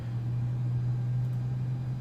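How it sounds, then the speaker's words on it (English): Engine noise of a Delta 767-300ER in Microsoft Flight Simulator 2020: a steady low droning hum with a strong constant tone, continuous and even throughout, no voices. "Here come the engine noise."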